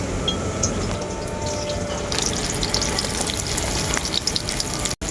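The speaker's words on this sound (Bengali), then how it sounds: "গরম তেলের মধ্যে আমি দিয়ে দেবো কেটে রাখা পেঁয়াজ" Chopped onions frying in hot mustard oil in a kadai, a dense continuous sizzle that grows brighter after the onions go in, close and steady, no talk.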